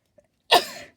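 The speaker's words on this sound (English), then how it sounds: "I think I'm going to sneeze" A single abrupt sneeze, close and loud, with a short breathy tail, preceded by a tiny faint click.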